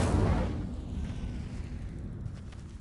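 The Incendio fire spell in Hogwarts Legacy, a heavy fiery whoosh with a deep burst at the start that rolls off into a fading rumble.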